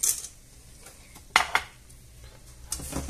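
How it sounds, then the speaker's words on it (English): Cayenne peppers and coloured peppercorns fry in a pan, a soft sizzle underneath a couple of sharp clinks of a utensil against the pan, close and fairly quiet. "we'll just let them there to fry for a minute or so"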